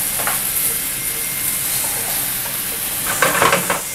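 Fresh mushrooms sizzling in melted butter in a pan: a dense, continuous close sizzle, swelling into a louder crackling burst near the end, with no voices.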